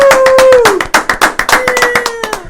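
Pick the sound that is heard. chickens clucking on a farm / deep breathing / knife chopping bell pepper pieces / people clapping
people clapping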